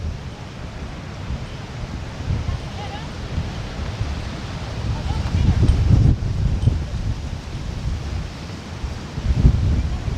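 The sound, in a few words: very strong wind at Legian Beach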